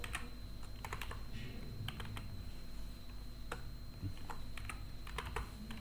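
Quiet keystrokes on a computer keyboard, scattered light clicks in short irregular runs over a steady low hum, close but soft.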